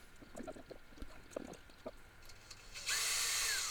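A drill works at a snapped stainless steel bolt in a steering mount, with faint scattered clunks first and then a loud, steady high whine from the drill that kicks in near the end.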